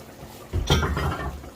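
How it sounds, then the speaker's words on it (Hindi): Hot water, about two cups, poured into a pan of chicken badami korma, a short close splash and hiss that rises suddenly and holds for about a second. "अभी मैं इसमें शामिल करूंगा तकरीबन 2 कप गर्म पानी"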